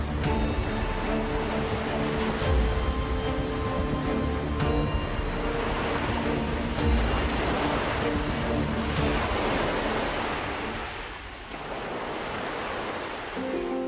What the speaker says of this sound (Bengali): আবার একটা বড় ঢেউ আসছে, আবার আমার বাড়িটা ভেঙে দেবে